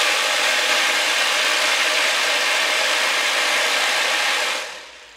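A vibratory tumbler runs a test with a loud, steady, hissing rumble that holds evenly for several seconds, then winds down and fades near the end.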